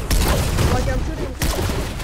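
Gunfire in a Fortnite match, a dense burst of rapid shots and booms filling the whole moment, with players talking over the shooting.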